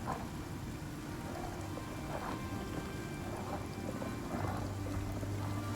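Heavy storm rain pours steadily in the survival video game Icarus, with low rumbling thunder rolling underneath throughout and no one speaking.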